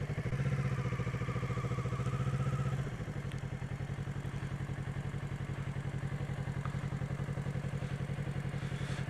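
A motorcycle engine runs with a steady, rapid low thrumming pulse while the rider makes a slow powered U-turn, the note easing slightly lower after a few seconds and continuing evenly at close range.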